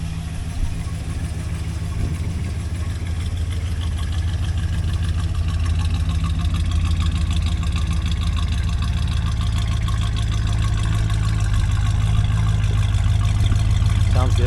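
A 1973 Chrysler Town & Country station wagon idles steadily and close by outdoors, its low, even engine hum continuing unbroken for the whole stretch.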